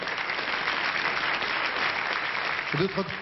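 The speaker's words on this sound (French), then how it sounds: "je crois qu'on peut vraiment applaudir les gens qui ont organisé cette soirée" Dense, steady audience applause at a French music awards ceremony, moderately loud and continuous, with a brief voice surfacing near the end.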